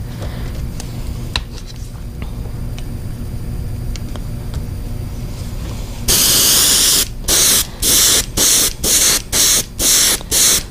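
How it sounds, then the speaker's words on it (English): Spray paint hisses from a can onto a custom fishing lure after a quiet stretch: one long continuous burst, then a rapid series of short, evenly spaced sprays, loud and close. "I'm just spraying up and down"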